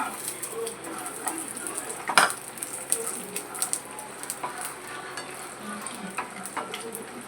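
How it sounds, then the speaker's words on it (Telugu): Nuts frying in a pan for chutney give a steady, close crackling sizzle, with one sharp clatter partway through and small pops throughout. "జస్ట్ కాసేపు ఒక థర్టీ సెకండ్స్ ఇలా ఫ్రై చేసుకుంటే సరిపోతుంది"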